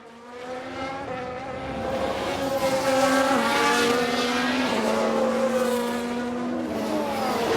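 F1 race cars in the F1 Manager 22 video game whine past at high revs during a race replay, layered engine tones rising and shifting in pitch as they pass, loud and sustained.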